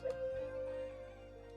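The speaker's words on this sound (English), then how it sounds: "I started this loop using a one shot. I used a Beat Sinners kit, and the one shot sounds like this." Synth one-shot from a Beat Sinners kit, a single soft sustained tone that holds for about a second over a low hum and then fades, faint and alone.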